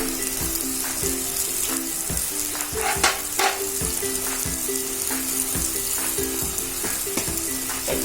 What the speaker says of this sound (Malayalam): ഇനി നമുക്ക് അതിന്റെ മുകളിലേക്ക് കറിവേപ്പില ഇട്ട് കൊടുക്കണം.